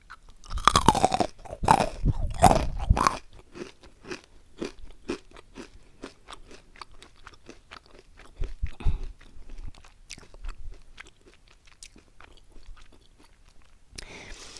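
Honeycomb candy crunched and chewed up close: loud, crackling bites crowd the first three seconds, then quieter, irregular chewing crunches continue to the end, with no talking.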